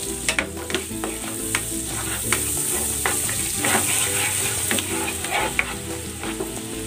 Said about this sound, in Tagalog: Igigisa ko na tong sibuyas.